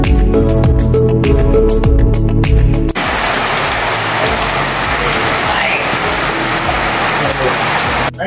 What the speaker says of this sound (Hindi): ये यहाँ आज होने वाली शदीद बारिश के मनाजर